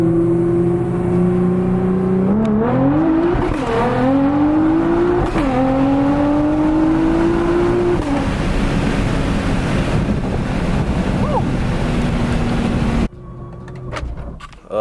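A Nissan GT-R Nismo fitted with new downpipes revs repeatedly, its engine tone climbing and dropping in several pulls. Heavy wind buffeting covers the recording, and it cuts to quieter engine noise near the end.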